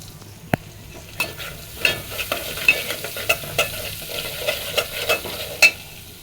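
Coriander powder, cumin powder and ginger-garlic paste sauté in a pan for a snakehead fish and bottle gourd curry. A sharp clack comes first, then regular scraping stirs about every half second over a close sizzle.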